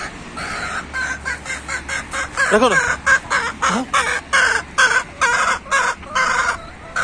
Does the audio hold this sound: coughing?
no